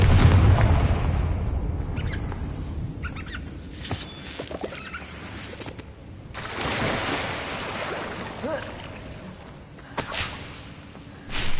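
A Confringo fire spell explodes in a Harry Potter video game, a loud blast giving way to crackling game sounds and further sharp bursts.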